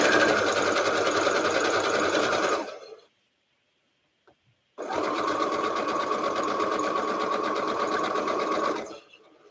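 A sewing machine stitches fabric in two long, steady whirring runs close by, separated by a pause of near silence, with no talk.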